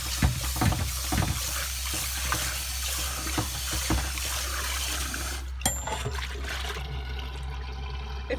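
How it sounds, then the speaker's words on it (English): Water runs and splashes in a kitchen sink while a custard pot is rinsed out, with a low steady hum underneath and brief clatters of the pot near the end. "take your pot to the sink and wash the pot out"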